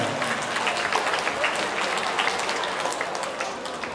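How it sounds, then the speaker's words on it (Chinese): Audience applauding at a summer cosplay competition in Kaohsiung, a dense, steady wash of clapping from many hands that fills the whole stretch without pause. "现场朋友再次以他们热情的掌声"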